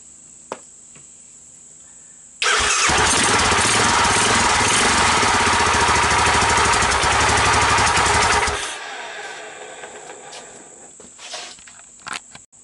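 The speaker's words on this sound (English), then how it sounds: "This is why I love the PZ27 carburetor. Cold start." An ATV engine fitted with a PZ27 clone carburetor cold starts abruptly and runs loud and close with a rough, fast rattle for about six seconds, then dies away to quiet background insects.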